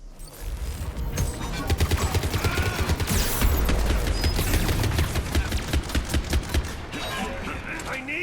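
Rapid bursts of gunship gunfire in a sci-fi shooter video game, dense and loud with continuous rattling volleys and sharp impacts, under occasional game dialogue.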